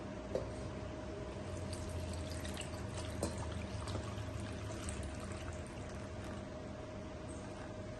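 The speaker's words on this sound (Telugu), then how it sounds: "రెండు గ్లాసులు వాటర్ పోసుకోవాలండి" Two glasses of water pour steadily into a pressure cooker for several seconds, a continuous splashing rush with a faint hum underneath and no voices.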